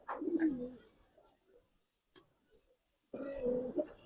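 A female Dobas pigeon coos in low, throaty bursts, one at the start and another near the end, close by with faint taps and quiet gaps between.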